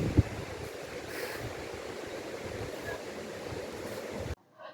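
Sea waves wash in steadily at Mana beach resort, a soft, continuous rushing surf heard from a room facing the sea, with a brief thump at the start before it cuts off abruptly.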